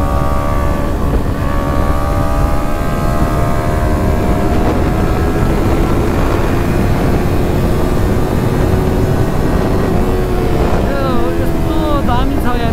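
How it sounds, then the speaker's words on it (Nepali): A Yamaha R3 motorcycle engine runs steadily in 4th gear at low road speed, its drone constant and close throughout under heavy wind rush, with faint speech mixed in. "यो बाइक होइन 4 गियरमा तपाईँको 30 को स्पिडमा दौडिरहेको छ"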